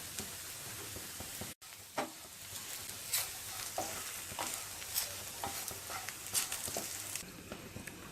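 Lady finger okra frying in a pan is stirred with turmeric, chili powder and ground coriander-cumin. A continuous faint sizzle runs under irregular utensil scrapes and taps, and no one speaks.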